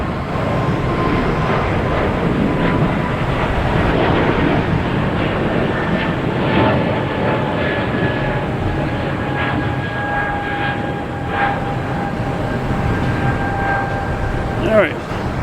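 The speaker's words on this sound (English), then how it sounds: "coming in from Philadelphia in A321." Airbus A321 arriving at Boston Logan Airport from Philadelphia, a loud continuous jet engine roar with a faint high whine, while people talk nearby.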